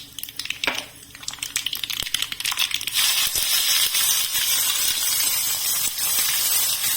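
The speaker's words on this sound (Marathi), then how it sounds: "आपल्याला तीळ घालायचे, पण तीळ घातल्या लगेचच खूप तीळ उडतात" Sesame seeds hitting hot oil in a pan while tempering with asafoetida for a sweet-sour green chilli fry, first a few clicks and crackles, then a loud, steady frying sizzle and spluttering up close.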